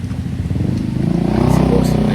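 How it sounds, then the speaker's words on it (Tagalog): A stock Soul i 125 motorcycle engine idles with a steady, even putter, close by, while a person talks over it. "tahimik na tahimik naman po yung kanyang makina"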